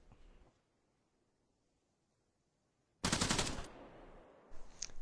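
A loud burst of automatic gunfire in a military video game erupts after a near-silent stretch, followed by another short volley, with rapid repeated shots close by.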